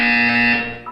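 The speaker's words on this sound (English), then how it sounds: "You will hear a buzzer. When you hear the buzzer, look up at the ceiling." Buzzer in the Portal 2 video game, a loud steady electronic tone with strong harmonics holding for most of a second before cutting off.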